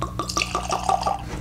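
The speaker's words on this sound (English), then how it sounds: "This is a fresh pour, or a neck pour as they like to call it." Redbreast 12 Cask-Strength whiskey glugs from a freshly opened bottle into a glass in quick, rhythmic bursts of liquid, close and clear over a faint low hum.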